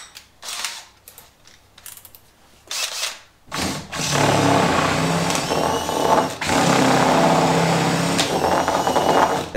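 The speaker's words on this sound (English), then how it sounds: "As here, I'm drilling out the holes from the top." A power drill whirs loudly and steadily after a few seconds of quieter handling noises, boring holes through PVC pipe with a continuous buzzing grind.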